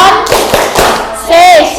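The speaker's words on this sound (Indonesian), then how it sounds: "tepuk terima kasih" Group members tap out a rhythmic thank-you clap in a classroom, a short run of evenly spaced claps followed by children's voices rising near the end.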